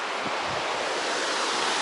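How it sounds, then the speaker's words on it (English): Wide, steady roar of river rapids on the River Dee about 100 feet below the Pontcysyllte aqueduct, a continuous broadband rush mixed with wind buffeting the microphone. "It's some rapids. Maybe 100 foot down."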